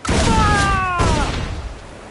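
Ship cannon fire from a naval battle in Assassin's Creed Black Flag, a loud booming blast at the start that rolls off into a rumbling decay, with whistling tones drifting over it.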